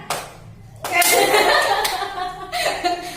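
A short burst of patterned hand clapping in a classroom, a few quick claps followed by a fuller round, with light laughter and voices mixed in.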